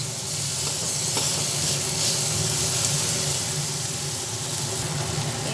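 Onion and tomato fry in a pan for a tilapia curry with mustard and poppy seed, giving a steady close hiss and sizzle that holds at an even level throughout, with no talking.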